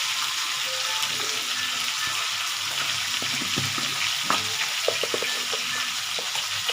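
Fish-head and Malabar spinach curry fries in a pan with steady sizzling while a utensil stirs and scrapes in irregular clicks and knocks, close and moderately loud, no talking.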